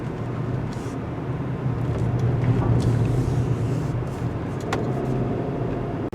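A 2022 Subaru Outback Wilderness cruising down a road, with a steady low engine and tire rumble and wind noise holding continuously near the cabin.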